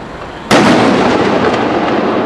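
A bomb-disposal robot's water cannon fires at an explosive: after a brief lull comes a sudden, very loud blast that settles into a sustained, roaring rush of spray.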